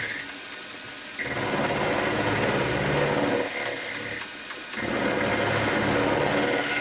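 A Warco WM 180 metal lathe runs with a cutter, producing a steady close whirring motor drone that dips and rises twice as the load changes, with a brief spoken word.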